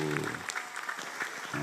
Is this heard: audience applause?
yes